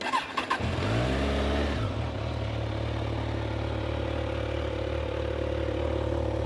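A 2013 Kawasaki Ninja 1000SX motorcycle engine with 3,875 km cranks and catches, then settles into a steady, close idle that rumbles on alone.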